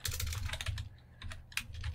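Someone types on a computer keyboard, producing quick, irregular bursts of close, quiet key clicks with brief pauses between them and no talking.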